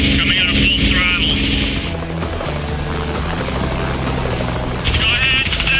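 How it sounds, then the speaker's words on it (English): Loud, close helicopter at speed during a MythBusters JATO rocket car test, with a steady rotor thump and engine drone throughout, while a person talks over it. "helicopter's at speed"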